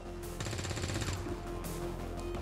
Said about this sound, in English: Roger that. Suppressing hostile.